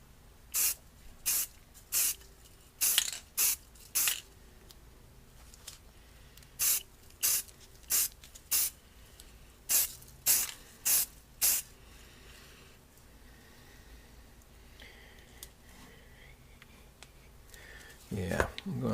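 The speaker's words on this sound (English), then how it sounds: "I'm going to spray this from a distance, so it just kind of peppers this from a very far, maybe 18 inches away" A spray paint can hissing onto an AR rifle part from a distance, in about fifteen short even bursts with brief gaps, then quieter handling and a rustle at the end.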